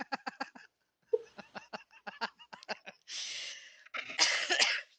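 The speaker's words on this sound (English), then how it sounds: "then you'll be coughing all over the place" A woman laughs and then breaks into a couple of rough, close coughing bursts near the end, after some quick laughter and chatter.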